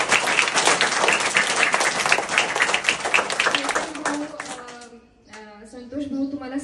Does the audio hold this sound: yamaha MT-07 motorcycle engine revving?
no